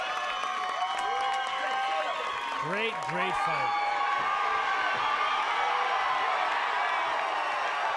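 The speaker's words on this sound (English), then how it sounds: "You can hear boos and cheers from both sides of this partisan crowd." A partisan crowd at an MMA championship fight keeps up a continuous roar of boos and cheers from both sides, a steady wall of noise beneath a commentator's close talking.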